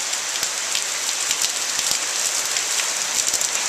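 Steady, dense rain from a thunderstorm pattering on surfaces, close and continuous, with scattered louder drops and no voices.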